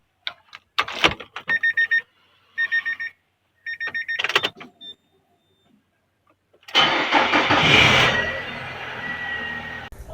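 A used automatic CVT car's engine is held at about 2000 RPM in a workshop. It follows a stretch of short electronic beeps and quiet pauses, then a steady, loud engine drone lasts to the end.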